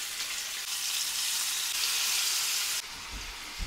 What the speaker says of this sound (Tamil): இப்போ நம்ம இந்த மீனை வந்து லைட்டாக வறுத்து எடுக்க போகிறோம்